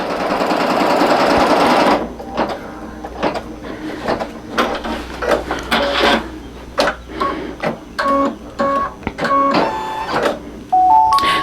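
A single needle embroidery machine stitches an in-the-hoop mug rug with a round appliqué, loud steady whirring for two seconds, then rapid rhythmic needle bursts and clicks with brief pauses and short beeps near the end.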